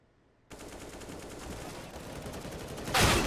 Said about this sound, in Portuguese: Swisher e Felpeira trocando tiros no cara a cara